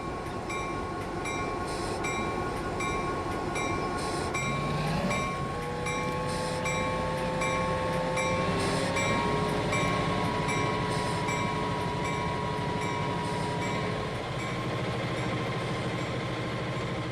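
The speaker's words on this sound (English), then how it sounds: "So here is our new train." A new electric train runs in Transport Fever 2, giving a steady, continuous rumble with sustained tonal hums and a rising whine partway through, heard alone with no talk.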